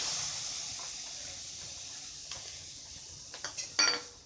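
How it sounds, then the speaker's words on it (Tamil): A steady hiss from a hot kadai, then a few quick rattling clatters near the end as dry chana dal drops in. "இப்போது கடாயில் இந்த கடலைப்பருப்பு போடலாம்"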